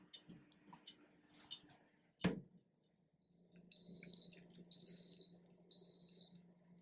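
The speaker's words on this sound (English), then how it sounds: "those beeps signaled that it was up to temperature, and the 6 minutes started counting down" A sublimation oven sounds three short, evenly spaced high-pitched beeps as it reaches temperature for a 40 oz tumbler, clear against a low hum after a single sharp knock.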